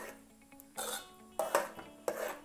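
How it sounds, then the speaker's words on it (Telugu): A utensil scrapes and knocks against a pot while rice flour mixture is stirred on the stove, heard as a few short, uneven bursts of scraping over a quiet background. "కొంచెం కొంచెం ఉండలు కట్టకుండా కలుపుకోవాలి"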